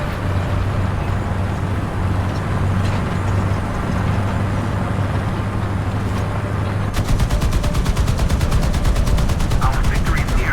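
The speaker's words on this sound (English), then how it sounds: "let's just put some artillery over there" Artillery and gunfire in a War Thunder tank battle: a steady engine rumble gives way to a fast, loud run of repeated shots through the second half, with no talking.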